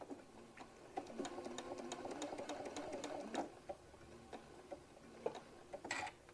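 A sewing machine stitches a hobo bag in quick bursts of close, rhythmic needle ticking, pausing briefly between runs, with no talk over it.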